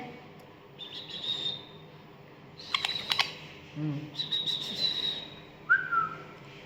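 Young sun conure chick, 39 days old, giving several thin high whistling calls in short separate bursts, close and fairly quiet, with a person speaking softly nearby.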